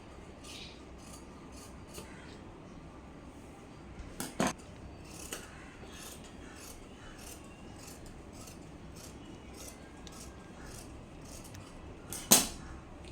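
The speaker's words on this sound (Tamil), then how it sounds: "இப்போ நம்ம ஃபுல்லாக மேலேருந்து கீழே வரைக்கும் கட் பண்ண போகிறோம்" Scissors snipping through chudidar fabric along the back neck, a series of faint crisp cuts with a couple of sharper louder snips, close up and without talk.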